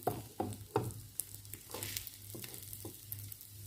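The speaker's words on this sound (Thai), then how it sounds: "เจียวไข่ให้หลานสาวนะคะ" An egg omelette crackles in oil over a charcoal stove, with a spatula scraping and tapping the pan in irregular strokes over a soft, steady sizzle, close and quiet, without speech.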